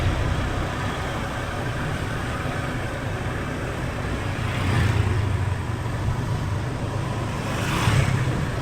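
A motorcycle engine drones steadily while riding through hilly terrain, a constant rumble mixed with rushing wind that swells slightly twice, with no talking.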